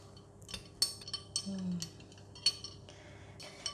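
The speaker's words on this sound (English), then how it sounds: "Before drinking, you just need to give it a stir." A spoon stirring a cold soy milk with grass jelly drink in a glass, light irregular clinks of metal against glass, quiet and close, with a faint steady hum behind.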